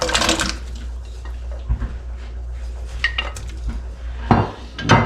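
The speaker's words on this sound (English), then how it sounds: "First we put our potatoes in there. And And then our carrots." Chunks of potato and carrot tumble into a cooking pot for corned beef, giving clattering thuds and splashes against the metal pot amid steady kitchen hum, with a louder clunk near the end.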